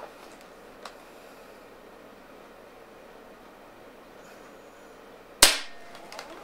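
A single sharp crack from an air gun detuned for the Canadian market, sounding loud and close near the end after several seconds of faint room hiss, with a small tick earlier and no talking.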